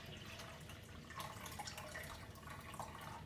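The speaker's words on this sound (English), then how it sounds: "And then we pour the cold water" One cup of cold water is poured into dissolved jello powder in a bowl, a soft, steady trickle with a few light splashes, fairly quiet and close.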